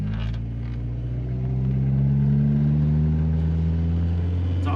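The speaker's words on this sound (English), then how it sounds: "Look at this thing, just idling so smooth." A VW MK2 Jetta's engine idles smoothly, a steady low hum with a gentle rise partway through, close and continuous with no speech.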